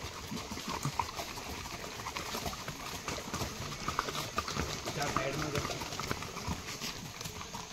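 Horse hooves clip-clop on a trail at Matheran hill station, a quiet, rapid and uneven run of hoofbeats mixed with voices nearby.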